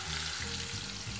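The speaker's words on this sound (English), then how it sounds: "So we can just keep frying these tomatoes." Crushed San Marzano tomatoes fry in olive oil with a steady, close sizzle and crackle, soft and continuous with no talking.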